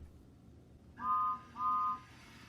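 A Tomos a'i Ffrindiau DVD menu plays a whistle: two short, steady, high tonal blasts, each about a third of a second long, separated by a brief gap over quiet background.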